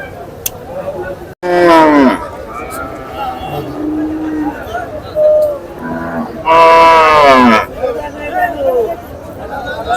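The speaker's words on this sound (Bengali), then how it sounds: "শিয়ালবাড়ি গরু হাট, অনেক বড় গরু হাট দেখতে পাচ্ছি।" Cattle at a large village cow market moo loudly in two long, close calls, with crowd chatter and market bustle running underneath throughout.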